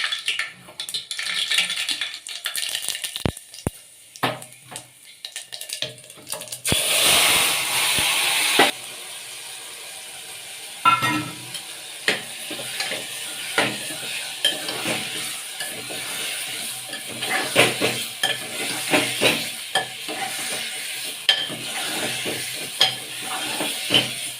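Tempering in hot oil for a guar and potato curry, uneven sizzling and stirring with clatters of a utensil, one louder hissing burst early on, no talk.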